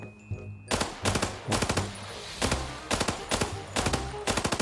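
AEK rifle firing in the shooter game Arena Breakout, with several rapid automatic bursts of sharp, loud shots separated by brief pauses, close and with no talk over it.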